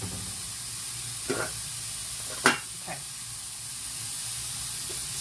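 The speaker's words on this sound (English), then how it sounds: "Ooh, there we are, super sizzling." Riced cauliflower sizzling in a small pan makes a steady, even hiss with a few brief crackles, close by, and a voice speaks briefly over it.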